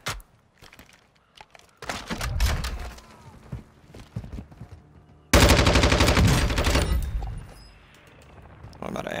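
Lachmann 556 assault rifle fire in Warzone 2: two loud, rapid automatic bursts, the second heavier and longer, with scattered distant shots and some quieter voice sounds between them.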